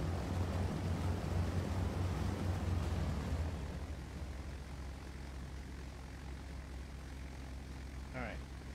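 Douglas C-47 propeller engines taxiing in a flight simulator, a steady near drone that eases down partway through, with a faint chirp near the end.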